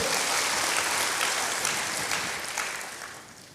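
A congregation at a church service claps and cheers in a dense wash of applause that gradually fades toward the end.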